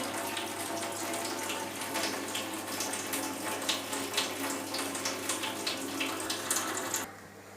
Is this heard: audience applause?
no